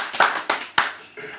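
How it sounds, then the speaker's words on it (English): Four separate hand claps ring out in a small room, sharp and close with short gaps between them, the last one softer. "More applause"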